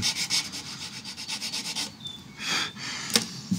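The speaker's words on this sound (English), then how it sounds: "creeping up on it slowly with a straight needle file, just making the slot a tiny bit bigger." A straight needle file scrapes back and forth in a slot of a guitar nut in close, dry rasping strokes that rise and fall with each pass, with brief pauses between runs and no talking.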